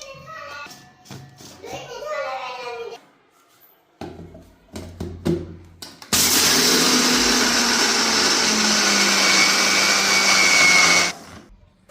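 Peanuts are ground to a fine powder in a mixer grinder. Clinks and handling noises and a short voice come first, then a loud, steady whir runs for about five seconds before it cuts off.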